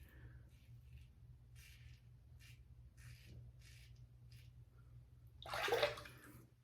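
Water runs in short, faint splashes, then a louder gush near the end, rinsing shaving-soap lather off a single-edge SE Leaf Twig razor, close by in a quiet room.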